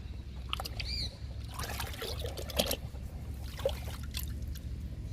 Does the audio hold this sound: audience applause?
no